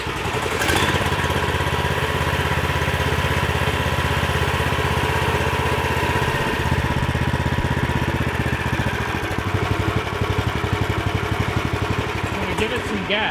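A 420cc engine on an off-road Murray go-kart runs steadily after starting, a loud, continuous idle with a constant mechanical rattle and no break for the whole stretch.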